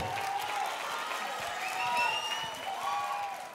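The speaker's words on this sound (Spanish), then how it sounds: "Más fuerte el aplauso" Crowd applause with some cheering for a rock band at a live show, a broad steady patter of clapping that swells midway, with faint whistles rising above it.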